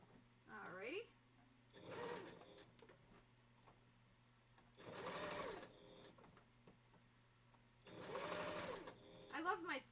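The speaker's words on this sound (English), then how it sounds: "I love my sewing machine" A home sewing machine runs in three bursts of rapid stitching a couple of seconds each, with pauses between, close and moderately loud, while someone speaks quietly in the gaps.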